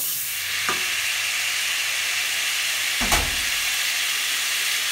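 Butter melting in a pan, with a steady soft sizzle and hiss and two brief clicks or taps against the pan.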